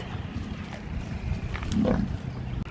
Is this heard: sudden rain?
no